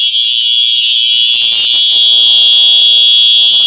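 A Simplex 4903-9236 fire alarm sounds during a test, a loud, piercing, continuous electronic tone that holds steady throughout.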